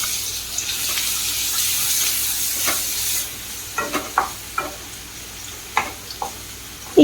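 Ginger and garlic go into hot oil for a Tamil-style Brussels sprouts dish, giving a steady close sizzle and hiss for the first few seconds, followed by scattered sharp clicks and scrapes of stirring, with no talking.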